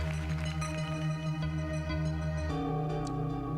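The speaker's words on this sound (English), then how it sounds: "that's the sound of the Terminator." A dramatic synthesized Terminator sound effect from the 2002 Greed game show plays as sustained, loud, layered electronic tones that shift pitch partway through, with no talk over it.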